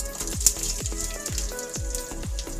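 Green chilies, lentils, cumin and mustard seeds frying in oil for a tempering give a bubbly sizzle with repeated popping crackles in a loose rhythm, close and moderately loud, with no talking.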